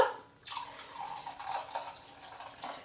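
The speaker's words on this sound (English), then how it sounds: "I'm just going to add hydrogen peroxide to that until it hits a half cup" Hydrogen peroxide is poured into Dawn dish soap: a soft, close liquid pour that runs steadily for a few seconds after a brief pause, with light splashing and a faint gurgle.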